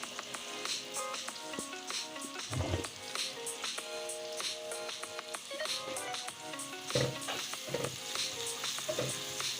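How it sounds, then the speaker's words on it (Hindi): Onions sizzle in a pan for an aloo and gobi curry, a steady close crackle broken by occasional stirring clatter. "प्याज को हमें बहुत ज़्यादा ब्राउन नहीं करना है, हल्का सा लाइट ब्राउन करना है।"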